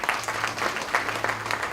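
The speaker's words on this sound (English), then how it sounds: "We have to give him another round of applause." Applause from an event audience in Uganda, steady dense clapping throughout the short stretch, fairly close and even, with a faint low hum underneath.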